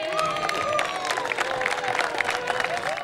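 Crowd of supporters at Cambridge Aerodrome clapping and cheering as a light plane touches down after a long solo flight, a dense, continuous burst of applause with scattered shouts throughout.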